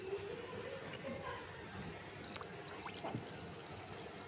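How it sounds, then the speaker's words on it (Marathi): Hot water poured into a pot of soybean pulao rice, a steady trickling pour running for several seconds with faint clatter, close and moderately quiet. "तर यामध्ये आता आपण ना गरम पाणी टाकून घेणार आहे"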